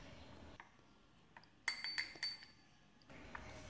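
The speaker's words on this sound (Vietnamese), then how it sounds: "Mình cũng khuấy cho cái hạt nêm nó tan ra luôn." A spoon clinks against a glass or bowl while stirring seasoning into fish sauce and water, a few light, bright taps in a quick cluster amid quiet room noise.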